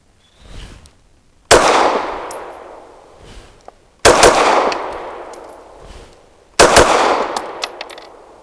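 A PSA Dagger Micro compact pistol fires three loud, sharp outdoor shots spaced a few seconds apart, each ringing off into a long echoing tail, after a fainter pop at the start.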